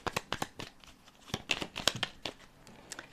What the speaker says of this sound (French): Je vais tirer 5 cartes pour voir ce que ça donne dans le cadre de cette énergie familiale